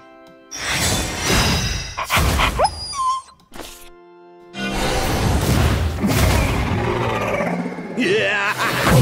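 Dog card attacking in the card battle video game Shadowverse: loud bursts of barking and whimpering mixed with thuds, booms and game effects, in several sharp-edged chunks with short gaps.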